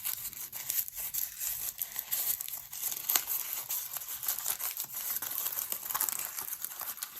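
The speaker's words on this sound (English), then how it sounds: "when it's still wet, just wrinkle it" A wet, sticky sheet of material being wrinkled and crumpled by hand, giving a steady stream of close, crinkly rustling and crackling with no pauses for about seven seconds.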